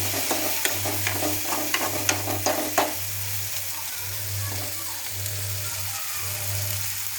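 Tomatoes and green chili frying in a pan for a tomato curry, a soft continuous sizzle with a few light stirring clinks early on, over a low steady hum from a stove or fan.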